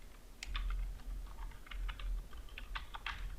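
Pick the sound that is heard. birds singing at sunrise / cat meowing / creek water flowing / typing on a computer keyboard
typing on a computer keyboard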